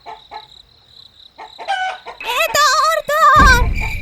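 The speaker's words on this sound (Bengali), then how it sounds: "মুরগিগুলো ডাকাডাকি শুরু করলো" In an animated cartoon, chickens cluck softly at first, then a rooster crows loudly twice in long rising calls, with a burst of squawking at the end.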